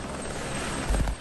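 A military helicopter in archive footage of an exercise with armoured vehicles and heavy guns, a steady broad rotor and engine roar throughout, with a slightly louder thump near the end.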